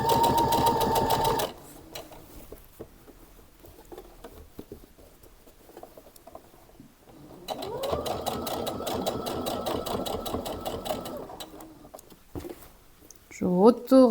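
A sewing machine stitching fabric for a made-to-measure kimono top runs in two close, loud bursts of rapid rhythmic whirring, with a quiet pause between them and a short handling noise at the end.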